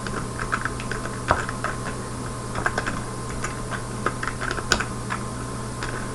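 Fingers typing on a computer keyboard while a short C program is written, a steady stream of close, quick key clicks over a constant background hum.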